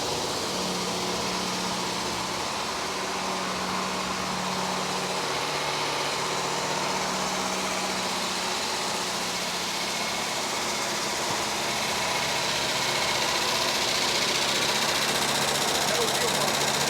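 An old Ford Mustang engine runs after 38 years parked, a steady, rough broadband rumble that holds throughout and swells slightly near the end, with no talk over it.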